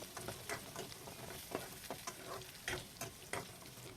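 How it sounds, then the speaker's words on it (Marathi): Onions fry in a pan with crushed garlic and cumin, giving a quiet, steady sizzle broken by intermittent scrapes and taps of a stirring spoon, with no voices. "कांदे टाकल्यानंतर या कांद्यांना छान असं फ्राय होऊ द्यायचं आहे"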